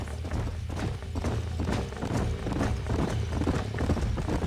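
Rhythmic clip-clop of horse hooves trotting steadily on hard ground in the video game Red Dead Redemption, fairly close, continuing throughout with no voices.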